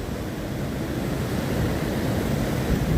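The Machchhu river, overflowing its banks below the Machchhu dam at Wankaner, gives a broad, continuous rushing roar of floodwater that stays loud and steady throughout, with some wind buffeting and no voices.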